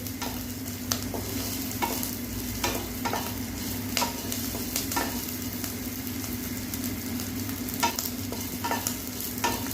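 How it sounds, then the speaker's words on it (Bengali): Snails sizzle and fry steadily in a pan, with repeated scraping stirs knocking against the metal. "শামুকটা আমি অনেকক্ষণ ধরে ভাজলাম।"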